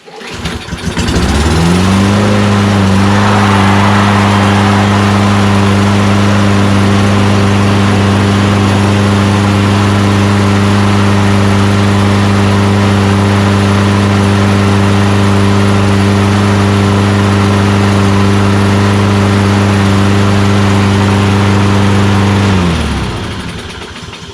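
A Toro Recycler lawnmower's Kohler XT675 engine catches on the first pull and runs at a steady, loud drone with strong low hum for about twenty seconds, then cuts off abruptly.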